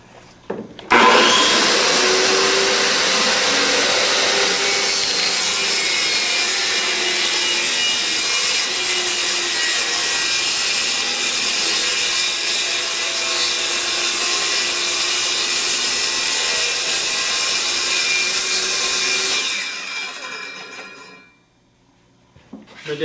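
A circular saw cuts through wood in one long, loud, continuous pass of close, steady, rasping whine lasting nearly twenty seconds, then winds down and stops.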